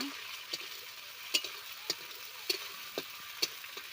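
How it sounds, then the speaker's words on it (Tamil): Onions and masala sautéing in hot oil make a soft, low sizzle, broken by light, regularly spaced taps and scrapes of a stirring utensil, quiet and close with no talk. "மசாலையும் சேர்த்தாச்சு நல்லா வதக்கிடுறா"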